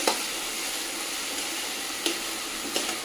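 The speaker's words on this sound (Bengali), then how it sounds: "নেড়ে চেড়ে ভেজে নেব" Quinoa pulao being stirred and fried in a cooker gives a steady, close hiss of sizzling with a few sharper scrapes of the spoon along the way. No one speaks.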